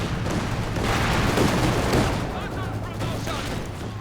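Flak guns firing in the World War II strategy game Company of Heroes 2: a dense, continuous barrage of rapid booming shots that blur into a loud rumble, with a commentator talking over it.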